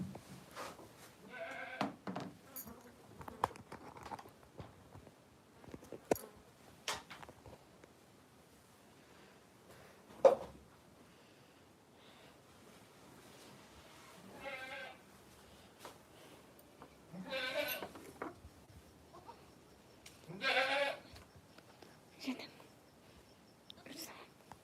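Goats bleat in several short, scattered calls against quiet outdoor rustling, with people talking softly and whispering in between.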